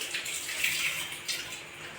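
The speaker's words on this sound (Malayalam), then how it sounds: "എന്നിട്ട് ഒപ്പം വെള്ളം ഒഴിച്ച് കൊടുക്കുക." Water pours steadily into a pressure cooker for a couple of seconds, a close, continuous splashing rush with slight surges, heard alone without talk.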